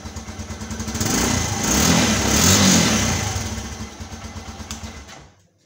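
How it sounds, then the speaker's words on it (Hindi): A 2022 Suzuki GD 110S motorcycle engine is revved up from idle, the exhaust note rising to a loud, close peak and then falling back, with a muffled, tamed tone and no talk. "अब मैं इसे थोड़ा सा रेव करता हूँ"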